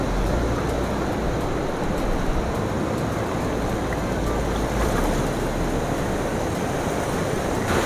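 Close and loud, a river rushes steadily just below a riverside camp on the Sigee and Yamne River, a continuous broadband roar of flowing water with no break.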